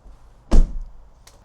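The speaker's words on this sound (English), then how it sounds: "if I close the door and lock it with the other." A Fisker Ocean car door swings shut with a single close, solid thunk, followed by a faint click a moment later.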